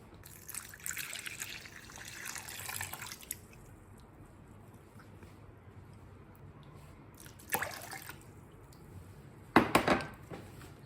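Lukewarm water poured into a bowl for pizza dough, heard as a soft trickling stream early on, followed by faint clinks and a brief splash near the end, with no talking.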